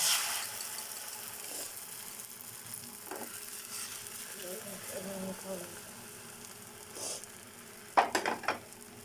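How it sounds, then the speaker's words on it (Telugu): An egg omelette fries in a hot pan for a chapati egg roll, giving a low, steady sizzle with soft scraping and a few sharp clinks of utensil on metal near the end. "ఇలా ఆమ్లెట్ వేసుకోవాలి."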